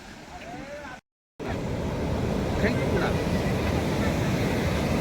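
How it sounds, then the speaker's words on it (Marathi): Steady broadband roar of rushing water at Pachira waterfall near Wai, Maharashtra, loud and continuous apart from a brief dropout near the start, with wind buffeting the microphone. "पुढं धबधबा टाईप आहे आणि तोच पाचिरा धबधबा आहे"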